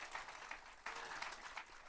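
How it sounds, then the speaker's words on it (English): Applause from an audience at a chamber of commerce annual meeting welcoming new board members: a faint, steady patter of many hands clapping, distant and continuous. "So if we can give them a round of applause."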